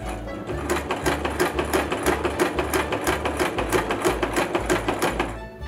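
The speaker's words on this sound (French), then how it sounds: "il suffit de coudre en suivant votre ligne blanche" A sewing machine stitches fabric along a marked line for an 1891-pattern Victorian dress, a close rapid steady clatter of needle strokes in an even mechanical rhythm, running alone before stopping at the end.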